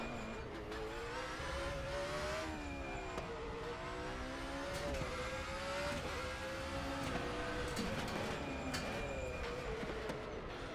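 Race car engine in the RaceRoom Racing Experience sim racing game, a continuous loud whine with rising and falling revs and rapid sequential paddle-shift changes, alone with no talk.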